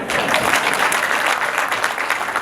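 Steady, dense applause from a wedding audience filling a hall at Kigali Jesuit Center, many hands clapping evenly and loudly without pause.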